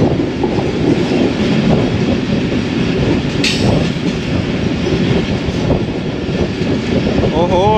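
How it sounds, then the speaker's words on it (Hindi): Wheels of the moving Ravi Express clatter loudly and steadily over the rails, and a brief high squeal cuts in partway through the rumble. "खूबसूरत आवाज़ लगती है ये पटरियों की"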